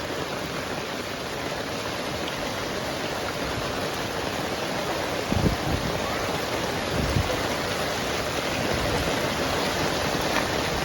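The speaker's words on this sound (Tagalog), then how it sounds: "ilang oras pa lang pero ito na, bumabaha na" Heavy rain pours outside during flooding in Tai Po, Hong Kong, as a dense, continuous hiss of falling water with a few louder splashes midway, steady and broad throughout.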